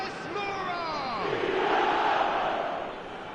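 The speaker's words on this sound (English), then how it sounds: "the crowd are reacting to that now" An eFootball 2026 stadium crowd swells into a roaring cheer that builds to a peak and then eases off slightly, heard alongside faint whistle-like tones near the start.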